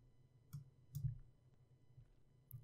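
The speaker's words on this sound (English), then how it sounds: "If you click this, it goes off, and it can come right back on also by clicking that." Several sharp computer mouse clicks spaced irregularly over a few seconds, quiet and close, with a low background hum and no talking, while Windows 10 settings are toggled off and on.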